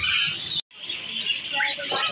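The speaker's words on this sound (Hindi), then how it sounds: "ये देखो छोटे छोटे चिड़िया बहुत ही प्यारी" Small caged birds at a bird market chirp and tweet in a busy, high-pitched chorus, broken by a brief cut partway through, with faint background market noise.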